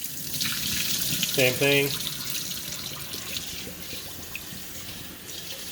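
Basmati rice being washed in water in a kitchen, with steady running and splashing water throughout, a brief louder burst near the start, and a person speaking over it.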